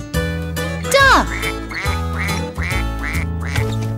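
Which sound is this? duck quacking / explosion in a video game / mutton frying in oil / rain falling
duck quacking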